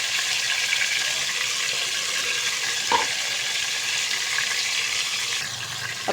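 Chicken pieces frying in a hot pan for chicken tikka masala give a steady, close sizzle that runs unbroken throughout, with no talking.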